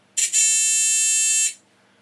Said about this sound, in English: this is just a battery and a buzzer